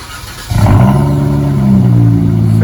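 A 2019 Dodge Charger with quad exhaust tips starts up warm, a short crank catching into a loud, deep, bassy idle that holds steady and close, with no talking over it.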